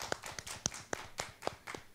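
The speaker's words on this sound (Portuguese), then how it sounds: "os aplausos pro Krigor que está presente" Sparse, distinct handclaps at a live Péricles pagode show, honoring Chrigor: a handful of close, uneven claps rather than a full crowd roar.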